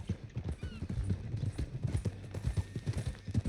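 Horse hooves clip-clop in a steady, brisk rhythm in Red Dead Redemption 2, close and continuous, with faint game sounds behind.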